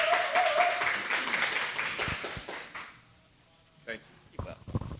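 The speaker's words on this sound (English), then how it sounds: "LaShawn, let's give him a clap" Audience at a community book club event applauding as the speaker comes forward, a few seconds of moderate clapping that fades, followed by quieter room noise and scattered bumps.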